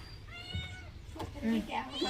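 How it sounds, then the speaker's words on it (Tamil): A kitten meows a few short, soft times nearby beside a fish tank being cleaned, its thin cries mixed with a person talking quietly over it. "இது நம்ம பூனைக்குட்டி என்னெல்லாம் மீன்லாம் இருக்குன்னு பிடிச்சி சாப்பிட வந்திருக்கு."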